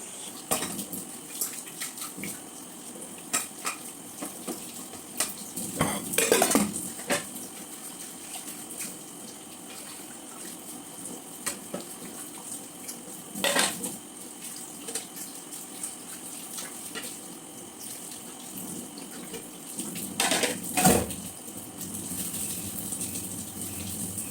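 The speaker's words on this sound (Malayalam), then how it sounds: "ഇപ്പോൾ പാത്രം കഴുകണം" Dishes being washed at a sink: clinking plates and cutlery with running water, intermittent clatters and splashes, close by, no talking.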